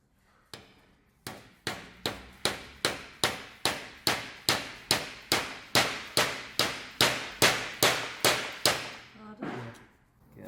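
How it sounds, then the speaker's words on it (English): A hammer taps the top of a DQ500 DCT transmission part, about twenty sharp metallic strikes in a steady, even rhythm, close and alone, ending with a short scrape. "Grab that hammer. There you go. You tap the top of that."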